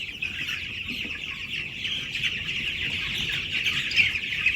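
A flock of two-week-old meat chickens cheeps and clucks continuously, a busy high chatter fairly close by.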